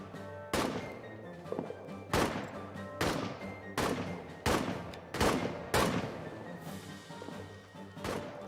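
Soldiers fire in a trench warfare video game, with about eight loud, separate rifle shots ringing out at uneven intervals, each with a short echoing tail, and no talking over them.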